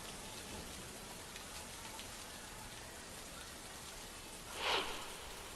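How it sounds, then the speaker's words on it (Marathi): Heavy rain falls steadily during days of downpour in Uttarakhand, a dense, even wash of rain noise with a brief louder swell near the end and no voices. "गेल्या 4-5 दिवसांपासून उत्तराखंडमध्ये जोरदार पाऊस बरसतोय"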